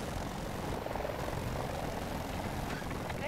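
Helicopter rotor and engine in the video game Battlefield 2042, a steady, dense broadband drone filling the whole clip with no pauses, loud and close, with faint game noise mixed in.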